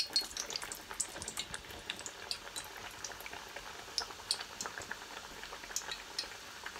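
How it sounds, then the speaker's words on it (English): Slices of green plantain frying in hot oil in a pot, a steady crackling, bubbling sizzle with dense tiny pops, fairly close and alone. "So that one is frying."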